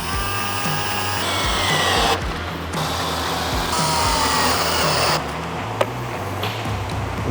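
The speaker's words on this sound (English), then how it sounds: "you go ahead and tighten these 4 fairing screws" A power tool runs in several bursts while tightening four outer fairing screws on a Harley-Davidson, a close, loud whirring drone that stops and restarts, with short pauses between the runs.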